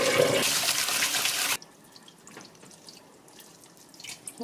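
Cold water gushing loudly over freshly boiled noodles in a sink for about a second and a half, then cutting off to faint drips and light handling sounds, close by and without speech.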